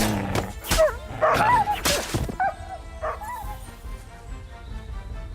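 Mutt, the dog in the game Kingdom Come: Deliverance II, gives a few loud barks and yips, then softer whimpering whines, with game music playing underneath.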